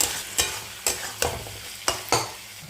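Dried fish being stirred as it fries in a pan with chili powder, a steady close sizzle broken by about six sharp scraping strokes of the spatula at uneven intervals.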